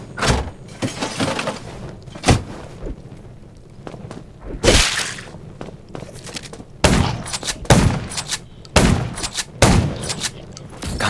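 Gunshots ring out in the zombie action MMO Undawn, sharp single cracks and short bursts scattered irregularly, some close and loud, with quieter whooshing and rumbling game sounds between them.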